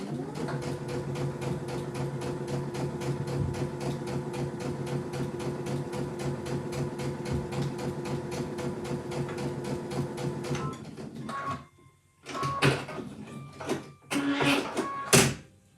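A sewing machine runs steadily for about ten seconds stitching fabric half square triangles for a quilt block, a continuous close mechanical whir that then stops, followed by a few handling clicks and rustles.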